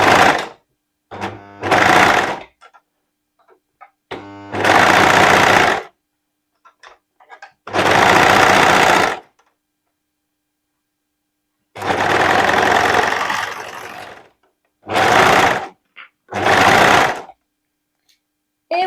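A sewing machine runs in short loud bursts while gathering fabric into ruffles, each run of rapid stitching lasting a second or two, separated by silent pauses.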